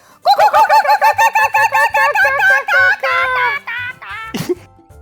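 Voices mimic a kookaburra's laughing call, a rapid run of rhythmic hooting bursts that rises, then trails off into a final squawk, close and loud.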